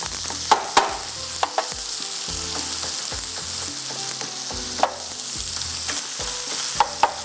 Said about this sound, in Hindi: इसमें बटर के साथ फ्राई हो रहे हैं